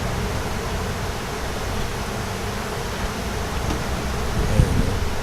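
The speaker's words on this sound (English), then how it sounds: "Hey Dick, when you flip those bees in from the outside in" Honeybees being shaken and slid by hand into a hive during installation give a steady, dense buzzing hum throughout, with a brief louder rustle near the end.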